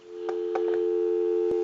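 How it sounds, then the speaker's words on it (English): A steady telephone dial tone hums continuously on the line of a Western Electric 500 rotary desk telephone, with a few faint clicks and a brief knock partway through. "So we'll go ahead and give you some dial tone"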